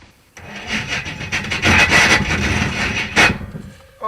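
A failing starter motor on the Jaguar engine swapped into a drag car, cranking in a parking lot at a drag strip; a loud, strained, grinding whir lasting a few seconds before it cuts out.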